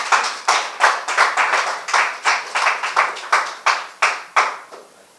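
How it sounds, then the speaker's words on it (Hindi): Rhythmic clapping at an office quiz, a dozen or so sharp, evenly spaced claps close to the microphone, heard alone with no talking. "तो तालियां भी बजा दीजिए आप भी।"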